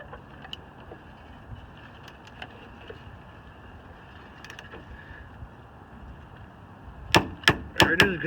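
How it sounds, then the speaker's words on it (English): A torque wrench tightening a rear brake bolt on a 2010-2015 Kia Optima to 115 pounds gives a quick burst of four or five sharp, loud metallic clicks near the end, after a stretch of quiet low background hiss. "got our torque wrench set"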